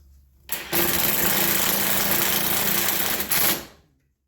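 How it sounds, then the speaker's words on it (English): A power driver spins a self-tapping screw into a greenhouse door hinge, one sustained whirring burst of about three seconds that rises sharply, holds steady, then revs briefly before cutting off. "I will use these self-tapping screws to hold this hinge into place"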